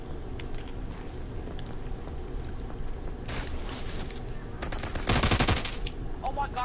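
Rapid video game gunfire rattling in short bursts against steady background game noise, with a dense, loud volley near the end.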